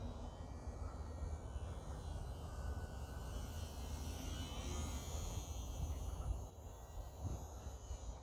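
The small electric motor of a UMX Radian RC glider drones in flight at night, a steady thin buzz that holds at a fairly even level and dips briefly near the end.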